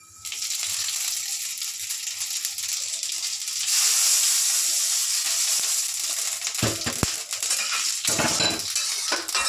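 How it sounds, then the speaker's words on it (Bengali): Mustard and radhuni seeds hit hot oil with fish in a pan for a Bangladeshi shukto, giving a bright, steady hiss that swells partway through, with metal utensils clattering and scraping against the pan near the end. "এবার আমি ফোড়নটা দিচ্ছি, সর্ষে আর রাঁধুনি।"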